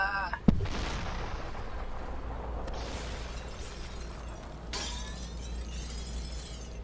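Gunshots and shattering glass from the slow-motion shooter game Superhot, with a sharp impact early on followed by a dense crashing, debris-like wash that swells again near the end, heard alone without voices.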